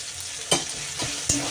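Spice paste with tomatoes fries in a pan under a soft sizzle, with three quick scraping stirs of a spoon standing out close by.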